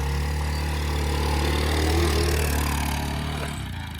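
A lawn mower engine runs loud and steady close by, revving with a slight rise in pitch before easing back, with no voices over it.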